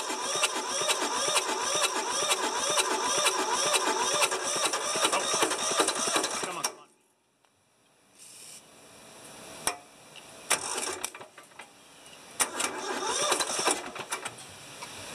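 An old rusty tractor diesel engine cranks steadily and rhythmically under the starter, then stops abruptly, followed by quieter clanks and a few short, uneven attempts to turn over again.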